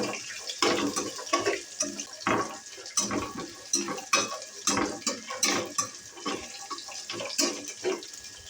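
Peanuts frying in oil in a pan for pulihora, heard as a close, continuous sizzle with repeated scraping and stirring clatters from a utensil against the pan.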